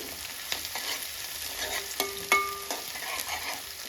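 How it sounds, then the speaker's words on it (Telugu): Green chilies, onions and mint fry in a pan for a Sunday special Telugu dish, giving a steady close sizzle with a few sharp clicks and a brief tone near the middle, and no talking. "దీంట్లోనే పచ్చిమిర్చి ఉల్లిపాయలు వేసాను పుదీనా కూడా యాడ్ చేసుకున్నాము ఇది కొంచెం ఫ్రై అవ్వాలి"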